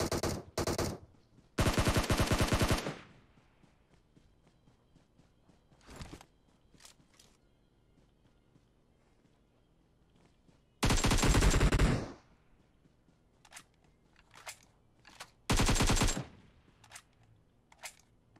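Several loud bursts of rapid automatic gunfire in the video game PUBG Mobile, each lasting about a second, separated by quieter stretches with scattered single shots and faint footsteps.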